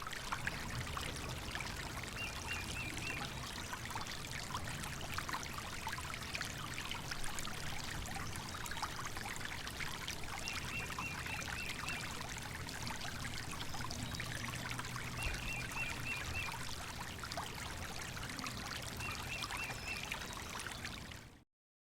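A waterfall in Savusavu, Fiji, pours and rushes in a steady, dense roar that stays even and unbroken throughout, with no voices over it.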